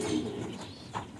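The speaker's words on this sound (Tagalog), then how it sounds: "Sir Bernard, paano po kayo nahilig sa pag-aalaga ng mga kalapate?" Pigeons coo softly in a racing-pigeon loft, a short, close, low burbling call with no talk.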